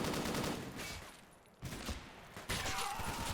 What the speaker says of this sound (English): look at him lay down fire